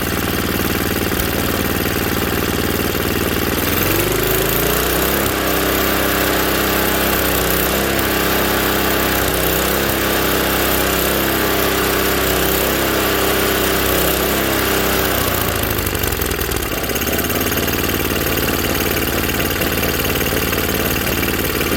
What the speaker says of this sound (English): Now we'll see how it does when I go up to full throttle, see if it starts to race up on its own.